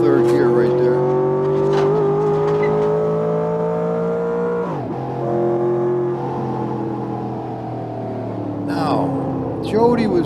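A car pulls hard through third gear, its engine note climbing steadily, dipping briefly at a shift midway, then rising again. The engine stays loud and close throughout, with voices talking over it.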